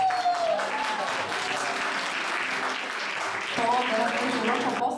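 Applause from an audience at a celebratory gala honouring a boy's mother, steady clapping filling the room throughout, with a voice speaking over it.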